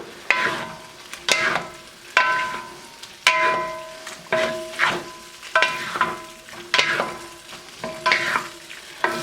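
Tofu is stirred into sizzling mapo tofu sauce in a pan, with about nine rhythmic spoon scrapes and stirs over a steady frying sizzle, close and without talk.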